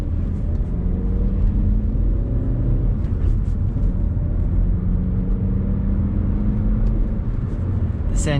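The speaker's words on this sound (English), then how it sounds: "This engine is just so sweet. It's the 2-litre twin spark producing 150 brake horsepower" An Alfa Romeo 147 with the 2-litre Twin Spark engine drones steadily from inside the cabin while driving, a low rumble with a slowly rising engine note and faint background sounds.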